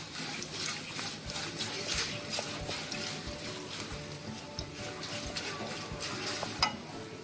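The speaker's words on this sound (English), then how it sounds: "I'm just going to roast the cashews for a few seconds." Cashews roasting in a hot pan for an Indian rava upma breakfast, giving a steady close-up sizzle with occasional stirring scrapes and light clinks throughout, with no voices.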